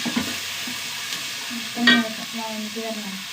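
Two small onions fry in a pan until brown, giving a soft continuous sizzle broken by stirring scrapes, with a faint tonal sound in the background.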